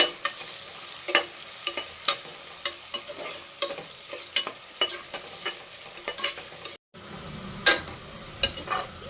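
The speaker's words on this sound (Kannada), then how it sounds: "ಇದು ಗೋಲ್ಡನ್ ಬ್ರೌನ್ ಆಗೋವರೆಗೂ ಫುಲ್ಲು ಫ್ರೈ ಮಾಡ್ಕೋಬೇಕು." Chopped onions fry in a pan until golden brown and crispy, with a steady sizzle under regular scraping stirs of a spoon and a brief cut in the sound near the end.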